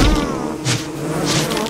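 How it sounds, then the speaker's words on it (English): Killer bees from the video game Don't Starve Together buzz loudly and closely, a steady insect drone with a couple of swelling passes, heard alone without talk. "I have 6 killer bees."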